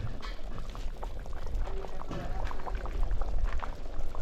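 A large pot of homemade chicken curry made with 10 kg of chicken bubbling at a steady boil, a dense, close, continuous gurgle that swells slightly toward the end, with no voices over it.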